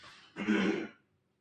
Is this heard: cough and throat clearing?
yes